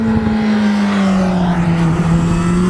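Honda motorcycle accelerating hard on a straight, a loud, close engine note rising steadily in pitch as it pulls through the gear, upshifting without the clutch.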